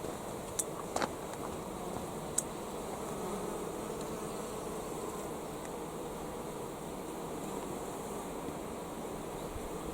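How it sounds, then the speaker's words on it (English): A dense, steady hum of many bees buzzing in September sunshine fills the air at close range, with a few faint clicks and no talking. "Just a million bees making the most of a bit of warmth."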